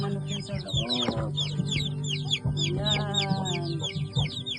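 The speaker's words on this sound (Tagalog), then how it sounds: "Ayan, yung manok sa loob. Ayan, marami sila." A flock of chickens clucks close by during feeding, with overlapping throaty clucks and higher squawking calls that keep going without a break.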